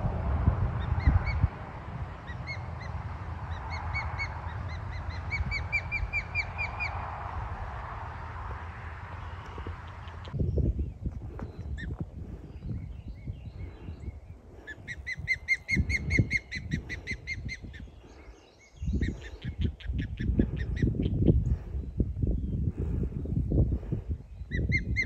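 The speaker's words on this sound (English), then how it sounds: "That's the bird that was in the nest there." Wild bird in the Florida Panhandle countryside giving repeated harsh, honking calls in short rhythmic bursts, mid-distance, over outdoor background noise, with later calls more scattered among rustling and handling sounds.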